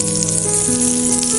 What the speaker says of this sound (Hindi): तो पेटीज की साइड को इधर उधर चेंज करते हुए इनको फ्राई करेंगे।